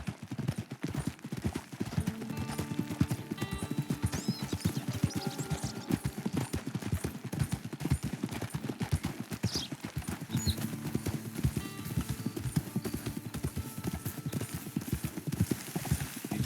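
Horse hooves clip-clop steadily and rapidly in the video game Red Dead Online, a continuous fast galloping rhythm with faint ambient sound and occasional brief tonal calls, loud and sustained throughout.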